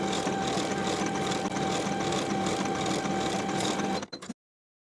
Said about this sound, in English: Sew the shoulder seams with a 3/8 inch seam allowance